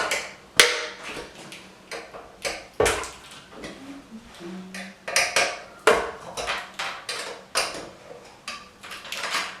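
A can of primer pried open with a tool before painting a bathroom: a series of sharp metallic clicks, taps and scrapes at irregular intervals, close by, with small clinks between the louder strikes and no speech.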